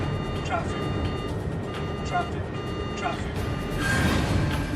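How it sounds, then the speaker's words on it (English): A TCAS traffic collision avoidance alert sounds in an airliner cockpit at cruising altitude, a series of evenly spaced electronic tones repeating about once per second over a steady engine and cabin hum. "its onboard traffic collision avoidance system, TCAS, sounds an alert"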